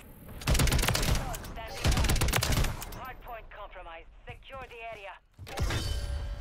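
Dense automatic gunfire bursts from Call of Duty Modern Warfare 3 multiplayer, loud and rapid in several volleys, under and between a player's excited talk.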